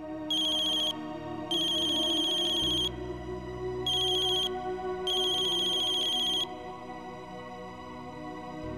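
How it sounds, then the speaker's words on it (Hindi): A synthetic phone ringtone sounds in four bursts, a tuned electronic trill with short gaps, over a low steady room hum. "फाइनी का फोन?"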